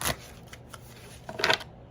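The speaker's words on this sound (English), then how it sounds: "when I shuffle the cards like that" Tarot cards are shuffled in two quick riffling bursts, one at the start and a louder one near the end, close up against a quiet room hush, with no talking.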